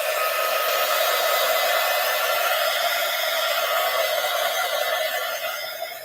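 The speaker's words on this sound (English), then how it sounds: "I'm going to have to dry that. So heat gun alert, as Mary says." A heat gun blows hot air to dry pink paint on a Valentine postcard, giving a steady, loud, close whooshing hiss that holds for several seconds and eases off slightly at the end.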